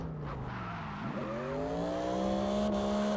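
A Raven RV8 car in CarX Drift Racing Online revs its V8 engine, the tone dipping and then climbing smoothly and sluggishly as a loud sustained drone, with a hint of tire squeal.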